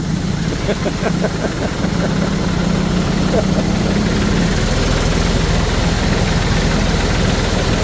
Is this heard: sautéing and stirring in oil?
no